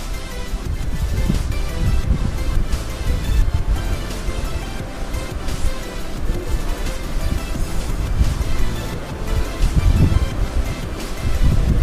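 A river flows beside a rural bicycle path in Titabor, a steady, loud, broadband rush of water that carries on without a break and is mixed with gusty wind noise.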